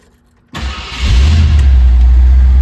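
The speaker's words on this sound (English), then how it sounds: "let's go fire this one up." A 1964 Ford Galaxie 500XL convertible's V8 engine cranks and catches, then settles into a loud, deep rumbling idle close by.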